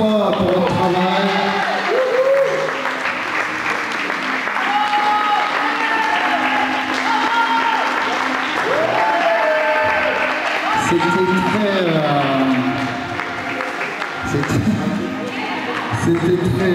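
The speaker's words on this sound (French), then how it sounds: "le public qui va vous applaudir encore une fois pour votre travail" An audience applauds pageant contestants lined up at a local beauty contest, with clapping running under loud amplified music and voices throughout.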